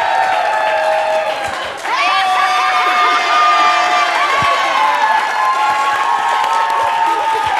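A crowd cheers and shouts at a women's soccer celebration event, loud continuous whoops and high excited voices with some clapping, sustained throughout.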